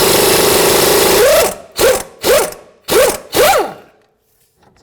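A power tool with an 18mm socket spins out the lower wishbone bolt on a 2008-2012 Jeep Liberty, a loud sustained whir followed by four short rising-and-falling bursts that stop, then quiet.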